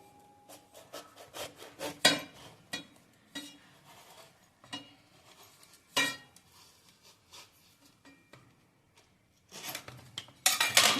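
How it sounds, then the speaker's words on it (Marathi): A knife cuts through a washed ash gourd (winter melon), giving a series of close, irregular scraping and chopping strokes, with louder cracking cuts around the middle and a dense burst of rasping strokes at the end. "तो सुरीने चिरून घ्यायचा आहे."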